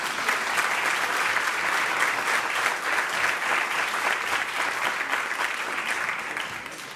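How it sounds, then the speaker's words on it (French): Sustained audience applause at a French conference panel on failure and success, steady dense clapping from a full room that holds loud throughout and eases slightly at the end. "Je vous propose, parce que vous ne nous avez pas applaudi en rentrant, de les applaudir,"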